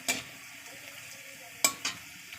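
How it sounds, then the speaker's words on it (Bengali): Egg frying in a pan in a home kitchen, with two or three sharp clinks and scrapes of a utensil against the pan over a faint steady sizzle. "তো চলুন ডিমটা ভেজে নিই"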